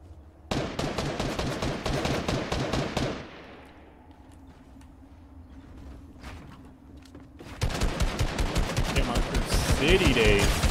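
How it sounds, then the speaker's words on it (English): Loud bursts of rapid automatic gunfire in Fortnite, a sustained volley that breaks off into a quieter lull with faint distant shots and a voice, then resumes as another close, dense burst. "Who's shooting at me?"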